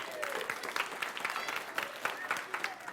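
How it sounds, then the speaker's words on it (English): An audience of children and families claps for a child dressed as Superman during a story time reading; the dense, continuous applause sounds fairly soft and distant. "Can we give Superman a big round of applause?"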